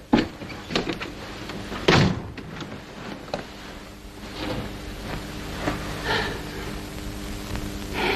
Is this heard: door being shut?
yes